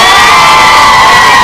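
A large crowd at an outdoor political rally in Kibra, Nairobi, cheers and shouts for Orero in a loud, dense, continuous roar with no break.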